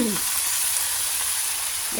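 Vegetables for chop suey, including broccoli, frying in a pan, a loud continuous hiss and sizzle with brief voice fragments at the very start and end.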